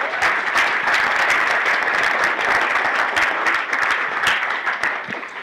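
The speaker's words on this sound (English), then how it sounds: "The least we can do is give them another round of applause." Audience at the HopHacks Fall 2015 hackathon kickoff applauds the organizing team: dense, loud, sustained clapping that fills the room evenly from start to finish.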